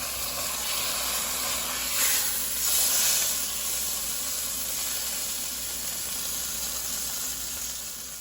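A pot roast searing in a hot pan, a steady, fairly quiet sizzle and hiss that continues throughout, with brief louder spurts of spitting near the start.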